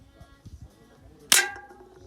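A single sharp pistol shot cracks out over quiet background, followed by a short ringing decay.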